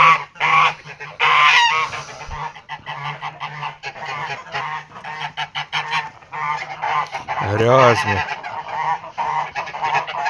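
Several geese honk loudly and repeatedly up close, overlapping calls in a noisy chorus, with a brief spoken word among them.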